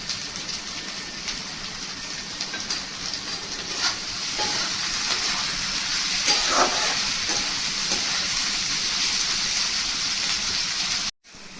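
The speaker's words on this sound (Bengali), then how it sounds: "ক্যাপসিকাম, হালকা করে ভেজে নেব।" Steady, crackling sizzle of capsicum frying in a hot pan for chowmein, with occasional pops and stirring scrapes, close and continuous, then a brief drop at the end.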